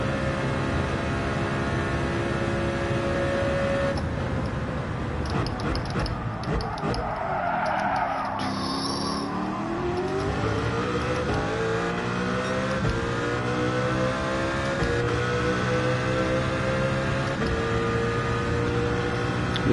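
A race car engine revving hard in Gran Turismo 7, a steady high-pitched roar that rises and falls through gear changes, with a brief skidding stretch partway through, close and continuous.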